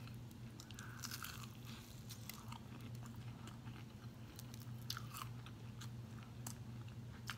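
Crunchy salt and pepper chicken wings bitten and chewed close up, repeated sharp crunches and crackles over a steady low hum, no talking.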